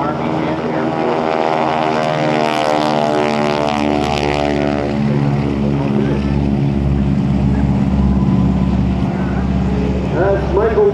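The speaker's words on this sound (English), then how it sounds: "That's Michael Mancuso at the controls of the Beechcraft Model 18." A Beechcraft Model 18 twin-engine propeller airplane flies at an Air National Guard open house airshow, its droning engines loud and sustained with a shifting pitch as it passes, while a commentator talks over the sound.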